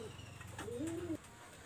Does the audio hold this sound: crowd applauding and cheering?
no